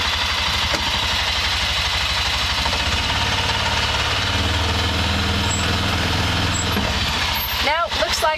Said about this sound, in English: I'm gonna shift into low gear.